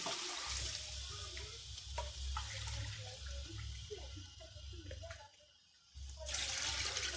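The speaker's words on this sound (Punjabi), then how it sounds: "ਹੁਣ ਅਸੀਂ ਇਹ ਚ ਪਾਵਾਂਗੇ ਪਾਣੀ" Water pours and splashes into a cooking pot for rice pulao with a hollow, gurgling rush that eases briefly, then surges again close by.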